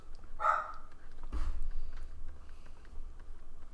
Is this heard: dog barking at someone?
yes